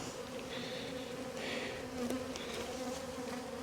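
Honey bees buzz steadily and densely in an opened hive during a winter inspection, a close continuous drone with an agitated edge and small shifts in pitch.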